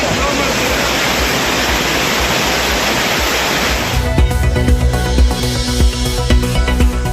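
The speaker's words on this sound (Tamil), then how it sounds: "குற்றால அருவிகளில் 2வது நாளாக வெள்ளப்பெருக்கு." Courtallam waterfalls in flood, a loud steady broadband roar of heavy falling water that runs without a break, with a music bed coming in under it for the last few seconds.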